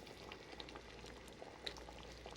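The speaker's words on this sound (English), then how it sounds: "And I have here some water boiling for the pasta eventually" Water at a rolling boil in a pot heated for pasta, a steady bubbling burble with scattered small pops, close and fairly quiet, no voices over it.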